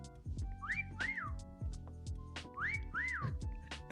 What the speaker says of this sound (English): Heard a whistle from this general vicinity.